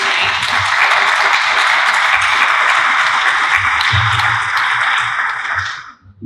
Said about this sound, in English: If you guys could just join me in a quick round of applause for our candidates tonight